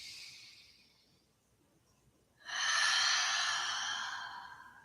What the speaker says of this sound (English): Take one full breath here.